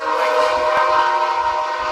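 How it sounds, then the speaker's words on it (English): A loud, steady train horn blares continuously with a rumbling rail background underneath, sounding fairly close and sustained throughout. "Yeah, I got a train"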